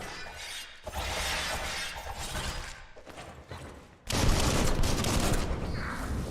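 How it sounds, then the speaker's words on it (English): Gunfire and bullets rip through a Biomutant battle in dense, crackling bursts, with a short lull before a louder, heavier volley erupts near the end. "Bullets everywhere."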